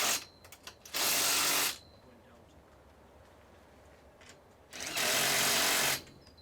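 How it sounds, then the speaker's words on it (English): A power drill drives self-drill screws in two sustained whirring bursts about three seconds apart, close by, with faint clicks and quiet pauses between. "Fixing any P-clips with a self-drill screw."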